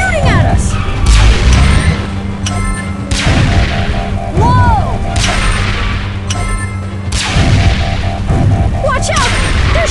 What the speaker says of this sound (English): Watch out! They're shooting at us!